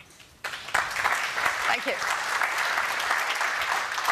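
Applause from a conference audience for an Oyster card award breaks out after a short spoken thanks, a dense, steady wash of clapping that fills the rest of the clip.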